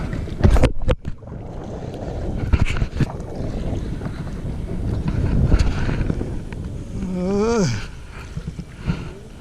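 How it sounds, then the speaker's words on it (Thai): Strong wind buffets a boat on a reservoir during fishing, a steady roaring rush with microphone gusts throughout and a brief whining tone near the end. "ลมแรงด้วยครับ"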